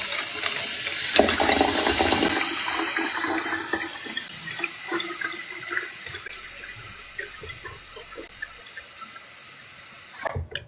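Water pours into a plastic water bottle with a loud splashing rush that tails off into softer trickles and sloshing, then a short clunk at the end.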